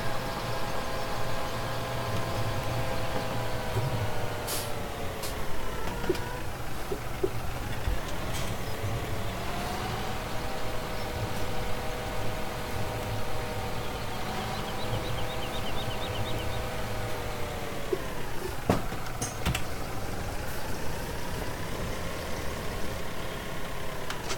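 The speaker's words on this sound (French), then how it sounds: "on va prendre ce tracteur là pour aller la chercher" A tractor engine runs steadily in a farming game, a constant mid-low drone with harmonic whine that dips and rises in pitch a few times as it revs, close and alone for about twenty-four seconds.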